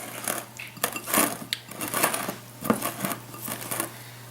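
Metal utensil clinking and scraping against a bowl while a cilantro mix for stuffed bell peppers is stirred, with irregular close taps and rattles over a steady low hum.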